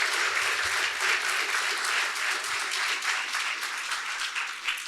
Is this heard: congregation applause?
yes